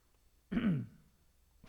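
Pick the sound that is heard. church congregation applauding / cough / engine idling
cough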